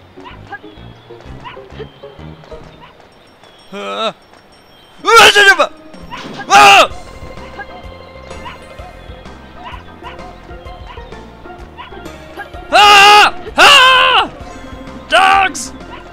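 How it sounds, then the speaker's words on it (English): Dogs in the video game Alundra 2 give several loud, sharp yipping barks in short bursts over a backdrop of game music, and someone talks between the barks. "No! No! Bad doggies! Bad doggies! Bad doggies!"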